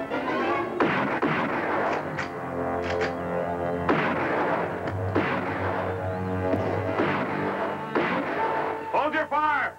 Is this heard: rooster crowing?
no